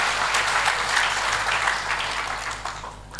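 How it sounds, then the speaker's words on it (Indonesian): A church congregation at a Christmas celebration claps in loud, sustained applause that fades slightly toward the end. "Tepuk tangan buat kemuliaan Tuhan."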